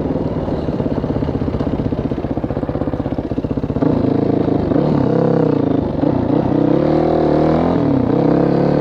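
A Yamaha WR450F dirt bike engine revs loud and close during wheelie attempts, a steady pulsing drone followed by jerky throttle surges rising and falling in pitch.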